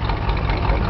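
A restored 1957 DeSoto Fireflyte with a Hemi V8 rumbles steadily up close, a loud, deep and continuous engine drone with no talk over it.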